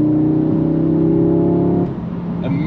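A 2022 Audi S3 in dynamic drive mode with stability control in sport, its engine note rising steadily from inside the cabin, then a quick upshift cuts the tone before it climbs again on a Colorado mountain road.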